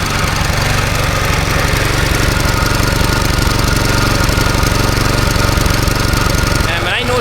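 An old engine runs loud and continuous, with a rough, uneven sputtering pulse throughout and a brief change near the end.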